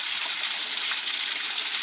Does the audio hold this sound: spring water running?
yes